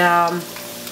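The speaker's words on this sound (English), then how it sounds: "just fry them until the bubbles go down" Close, steady sizzling of spicy chakinalu dough snacks deep frying in hot oil, with bubbling crackle that settles slightly partway through; no talking.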